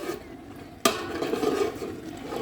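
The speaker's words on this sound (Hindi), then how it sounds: "ये मैं साथ साथ जो है ना चम्मच हिलाती जाऊंगी" A spoon stirring a large pot of carrot kheer made with milk: a sharp clink against the metal followed by wet, churning stirring and soft bubbling, close by.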